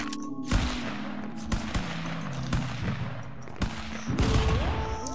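Gunfire in the Stick Fight video game, a rapid series of sharp cartoonish shots and impacts with some electronic tones, repeating throughout at moderate loudness.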